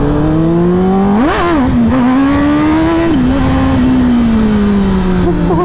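A Honda CBR1000RR-R superbike revs hard in first gear while lifting into a wheelie, its engine note surging and climbing in a loud, close sustained howl, dipping and rising again as the throttle is worked on an open road.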